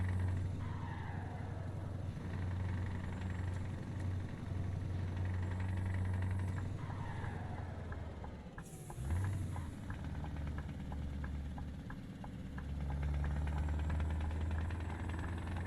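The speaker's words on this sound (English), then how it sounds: "Yeah, this truck sounds unreal," Scania truck in Euro Truck Simulator 2 with a deep, steady engine rumble idling throughout, low and continuous, dipping and shifting briefly midway before settling back into the same heavy drone.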